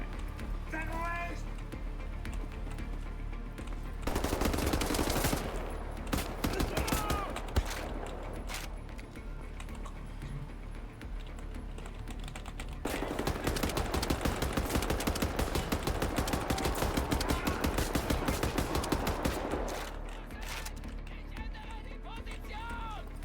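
Gunfire in Wolfenstein: The New Order, with two long bursts of rapid automatic shots that rattle loudly between quieter stretches, while voices talk over the action.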